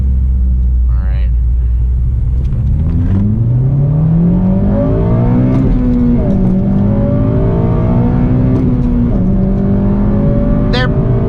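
A Honda Civic Si running a Hondata Flashpro tune revs hard through the gears, its engine note climbing steadily, dropping at each upshift and climbing again, loud and close from inside the car.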